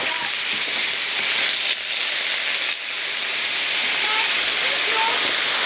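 Water poured into a hot pan of crisping dumplings sets off a loud, steady, broadband sizzle and hiss that continues unbroken throughout.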